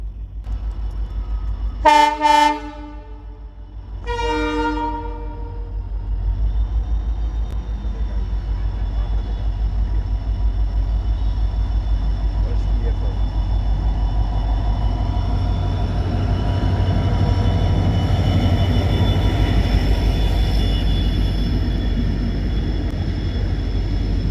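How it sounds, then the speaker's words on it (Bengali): Two loud blasts of a train horn at a level crossing, then the steady, growing rumble of a train rolling past nearby, near Siliguri. "ট্রেন চলে আসছে,"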